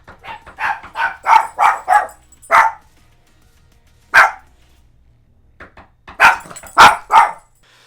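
Two house dogs barking in a home, a rapid run of loud, close barks, a pause, a single bark, then another short burst of sharp barks at the end.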